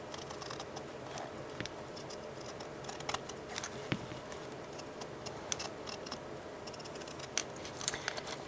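Trimming the top edge of a hand-painted paper booklet, heard as faint, close snips and light crisp paper rustles scattered over a steady background hiss, with no talk.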